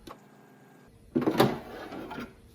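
Storage drawer of an Aulika Evo Top coffee machine slides out with a short plastic scrape and clatter after a quiet moment, close and moderately loud, tapering off over about a second.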